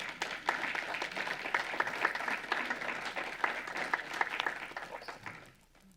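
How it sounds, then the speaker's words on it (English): A crowd applauds continuously, dense overlapping claps at moderate distance, fading out over the final second. "One more round of applause"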